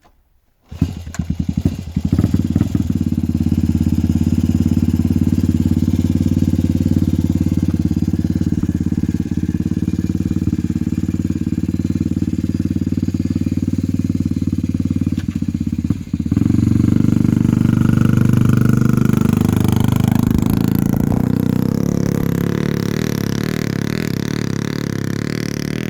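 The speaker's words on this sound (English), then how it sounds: "Trail on our little Trail 90s here. Perfect bikes for the trail." Small Honda Trail 90 trail motorcycle engines start and then run steadily, a loud, close, buzzing idle that holds for the whole stretch and shifts in pitch partway through, with no talk.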